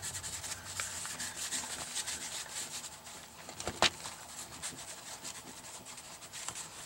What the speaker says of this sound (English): I'm going to just dauber these on and then rub them around with my fingers.